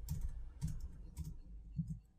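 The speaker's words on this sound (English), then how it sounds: "I'm just going to type in here" Quiet typing on a computer keyboard, a few soft, evenly spaced key clicks and taps at close range, faint and alone with no speech.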